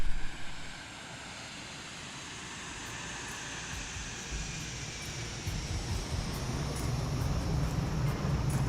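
Steady broadband roar of a US Airways Boeing 737-300 landing, engine and airflow noise heard from inside the cabin, holding level and rising slightly toward the end with low rumble at touchdown.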